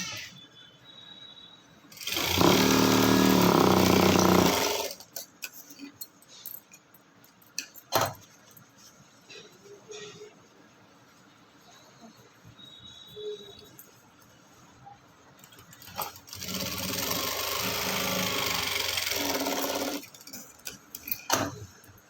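A sewing machine stitches a frock in two loud bursts of rapid mechanical whirring, each lasting a few seconds, separated by quieter handling clicks and rustling of fabric.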